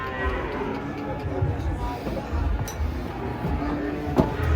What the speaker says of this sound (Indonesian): sapi raksasa guys. Sapi raksasa.